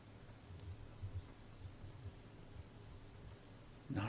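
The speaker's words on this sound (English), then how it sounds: "The only thing I could hear was the sound of the rain continuing to pour." Steady pouring rain in the visual novel CHAOS;HEAD NOAH, a faint, even hiss of falling water running throughout with no voices, a slightly louder patter rising at the very end.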